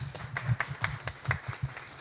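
A small audience claps to welcome panelists at a marketing and sales panel event, producing sparse, uneven individual claps close by that keep a loose, irregular rhythm.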